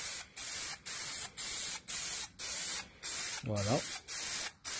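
Aerosol spray can applying a coat of paint to rotary tiller tines, in short hissing bursts repeated steadily about every half second, fairly close, with a brief spoken word partway through.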